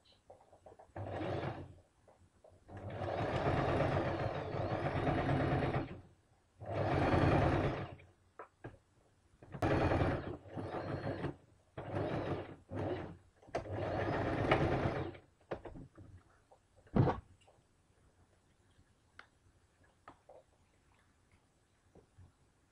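A sewing machine back stitching a seam on a kameez, running in several bursts of a few seconds each separated by short pauses, then handling clicks and quiet rustling as it stops.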